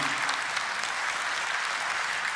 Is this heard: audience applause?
yes